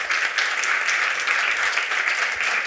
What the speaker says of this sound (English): please, a big applause to her